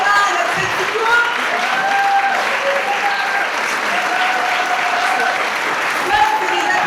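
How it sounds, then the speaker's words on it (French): Encouraging applause from a crowd at the launch of a Relay for Life event fills the whole stretch as steady, moderately loud clapping, with voices talking and cheering underneath. "Là, c'est des applaudissements d'encouragement."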